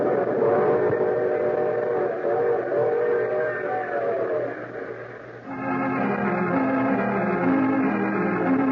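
Train effects in an old-time mystery radio drama: rolling rail noise with sustained, harmonic whistle or horn tones, loud and steady throughout, shifting to a lower chord-like whistle partway through, with no speech.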